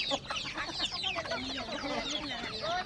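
Several chickens cluck and chatter continuously nearby on a farm, overlapping calls forming a busy, steady barnyard din.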